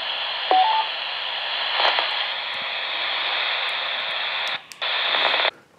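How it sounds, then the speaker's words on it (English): Baofeng UV-82 handheld radio receiving a 70 cm repeater: a steady hiss of static carrier with short tone beeps near the start and a brief dropout before the signal ends. "Right now I'm on the 70 centimeter repeater"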